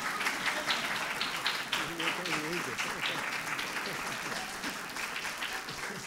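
An audience at a talk claps steadily and fairly evenly, with murmured voices mixed in beneath the applause.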